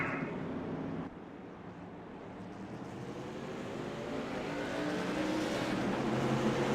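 SK Modified race cars in iRacing at 5 Flags Speedway drone steadily as they circle toward the start behind the pace car, engines rising gradually in loudness with no talk.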